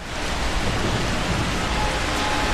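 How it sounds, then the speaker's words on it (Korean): Heavy rain pours down steadily at a riverside in Busan during a downpour, a dense, unbroken rushing hiss that stays loud and even throughout with no voices. "네, 많은 양의 비가 쏟아져 내리고 있습니다."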